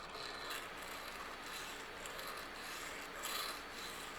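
Filing the back of a soldered wire tie pin flat: a faint, steady close rasping scrape that continues throughout, with a slight swell near the end.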